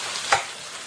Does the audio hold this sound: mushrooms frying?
yes